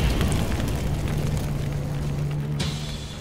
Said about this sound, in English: The burning of the cross lies at the heart of Klan tradition.